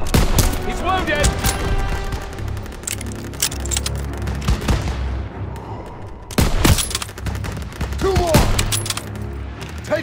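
Dense, loud gunfire in the Call of Duty: WW2 campaign, continuous rifle and machine-gun bursts with heavy booms, while soldiers shout over the battle.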